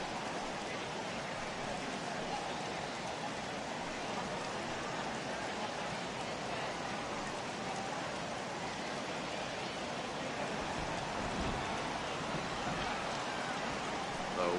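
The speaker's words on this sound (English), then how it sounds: "I don't know how much more rain this field can take" Steady rain pouring onto a baseball field in a video game, a dense, even hiss that holds constant throughout, with no breaks or distinct drops.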